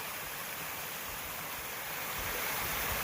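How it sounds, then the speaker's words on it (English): A small waterfall on a snowy woodland trail gives off a steady, even rush of falling water, faint and continuous with no other sounds. "got a nice little waterfall right there."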